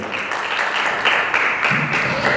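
Brief applause from an audience at an amateur folk drama theatre performance, with dense, even clapping sustained throughout a couple of seconds.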